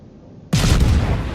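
Warship turret guns fire in a naval combat game, a single heavy booming salvo that breaks out of quiet ambience and rumbles on loudly.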